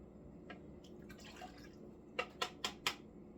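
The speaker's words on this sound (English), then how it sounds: "I'm going to pour the milk and the water in a bigger cup" Water and buttermilk poured into a larger cup while mixing whoopie pie batter, heard as four distinct drip-like splashes near the end, close and moderately loud after a quieter stretch.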